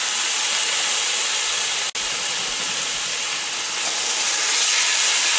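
Marinated pork and its marinade hit a hot pan with a loud, steady sizzle and hiss that fills the whole stretch, broken only by one brief dip near the middle.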